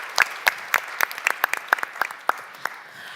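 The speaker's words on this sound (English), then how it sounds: "Let's just give a round of applause for all the speakers joining us." A conference audience breaks into brisk applause for the speakers, sharp close claps peaking early then thinning out over a few seconds.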